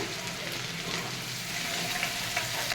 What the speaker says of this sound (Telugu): వెల్లుల్లి పేస్ట్, అల్లం వెల్లుల్లి పేస్ట్ ఆయిల్లో మంచిగా వేగనివ్వాలి